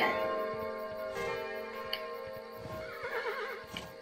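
A horse whinnies in the game Kingdom: New Lands, its neigh rising and wavering near the end over steady musical tones and a faint bell-like chime.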